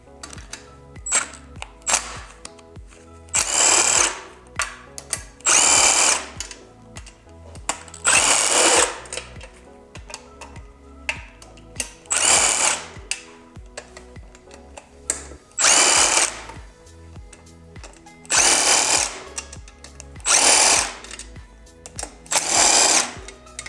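A power tool drives out the eight 10mm windage tray bolts on a Honda B16 engine under teardown, in about eight short whirring bursts with quiet pauses between them.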